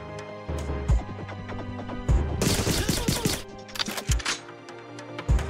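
Gunfire rattles through the spy shooter video game Agent 64, with single shots and dense bursts of rapid fire interrupted by short pauses, loud and close with no talking.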